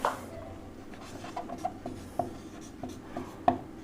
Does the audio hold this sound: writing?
yes